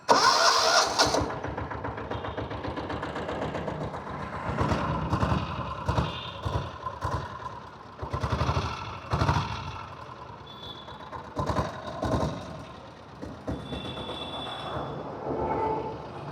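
Diesel train engine idling at a station near Adambakkam, a loud steady rumbling drone close by for the whole stretch, with swelling surges and some higher mechanical whines, no talk.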